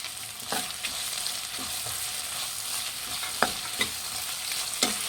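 Chilies fry in oil in a pan for Guntur chicken, giving a soft, continuous sizzle with occasional light clicks and scrapes of a spatula stirring; fairly quiet and with no voices.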